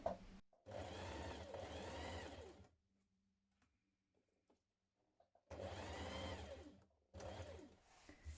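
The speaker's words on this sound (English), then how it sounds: "Now stitch the cuff to the sleeve with a stretch or zigzag stitch." A sewing machine stitches a dress cuff to its sleeve with a stretch or zigzag stitch, in two long close whirring runs split by a quiet gap, then a shorter final burst, with no speech.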